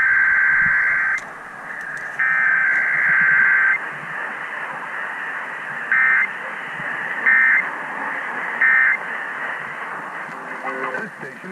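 Emergency Alert System test tones are broadcast on KDKA radio: a long steady two-tone alert, then several short bursts of the same tone separated by gaps. The tones are loud and clear and stand alone.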